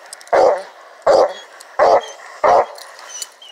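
A hunting dog bays loudly during a night coon hunt, four separate barks at a steady interval of about one per second, close and clear with no talking.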